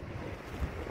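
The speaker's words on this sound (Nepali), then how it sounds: "आज होला यस्तो हावा चलिरहेछ यार" Wind buffets a microphone outdoors with a steady, rumbling roar, swelling slightly toward the end and heard alone without any voices.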